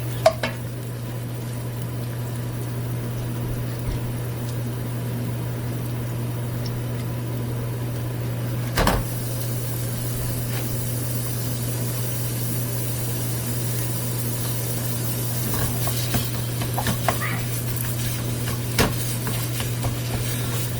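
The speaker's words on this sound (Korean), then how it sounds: "일단 파기름을 만들어서 다진 고기를 볶아줄게요" Minced meat stir-frying in scallion oil for a curry rice, a steady broadband sizzle holding throughout with a persistent low hum underneath and a few faint scrapes of stirring near the end.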